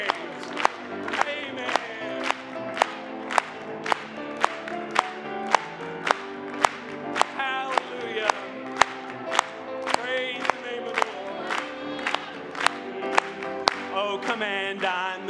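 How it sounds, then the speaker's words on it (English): A church congregation claps together in a steady, even beat that runs throughout, sharp hand claps landing over voices singing along in a hymn. "Let's just clap it one more to him."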